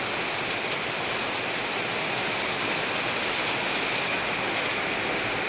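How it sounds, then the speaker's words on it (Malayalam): A dense, steady roar of heavy rain, unbroken and even from start to finish, with no talking. "ഇന്ന് ഉച്ചയ്ക്ക് വരെ മഴ അങ്ങനെ ഉണ്ടായില്ല കേട്ടോ ഇപ്പോൾ കണ്ടോ നല്ല മഴയാണ്"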